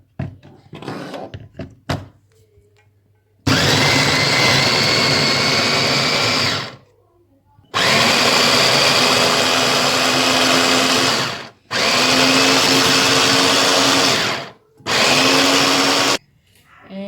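A kitchen blender roars loudly in several long bursts, grinding onion, green pepper, spring onion and garlic, with short silent gaps between pulses after a few quiet knocks and handling sounds at the start.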